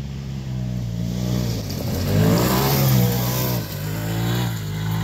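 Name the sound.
Polaris RZR turbo off-road vehicle driving away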